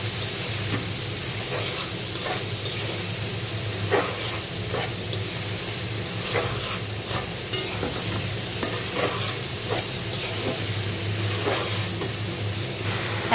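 Fried rice with soy sauce and tomato sauce is stirred in a hot pan: a continuous loud sizzle with repeated scraping stir strokes at a steady rhythm, close up and with no talking.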